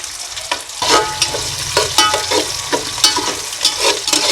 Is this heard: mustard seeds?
yes